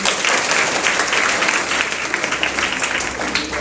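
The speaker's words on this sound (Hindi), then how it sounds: "चलिए जोरदार तालियां बजाइए।" Loud applause from a school audience at a motivational lecture, many hands clapping in a dense, sustained burst with no pause.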